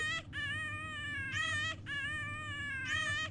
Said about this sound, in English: the pitch of the baby's crying was going, like, lower the closer I got to the door